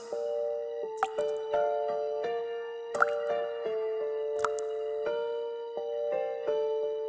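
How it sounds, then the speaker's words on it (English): Water drips slowly in an echoing space, each drop a sharp, isolated plink falling every second or so over a sustained, eerie tonal music bed. "The sound of dripping water echoed"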